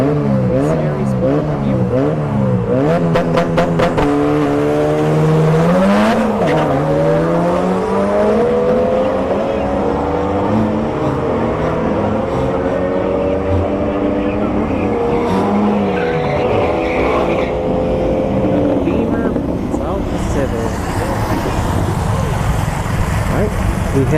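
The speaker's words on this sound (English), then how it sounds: "We have the B Series Turbo Civic hatch going up against B Series" At a drag strip, cars including a turbocharged B-series Honda Civic hatchback rev hard and launch, with loud rising and falling engine notes, tire squeal and popping, while an announcer talks over the racing throughout.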